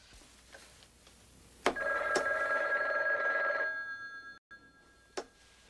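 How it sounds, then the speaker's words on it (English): A 1970s telephone bell rings in a newsroom, one long clear electronic-sounding ring with a couple of sharp clicks around it, loud and close with no talking. "That should get the phone ringing."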